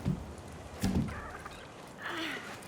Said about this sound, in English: Hello, seagull.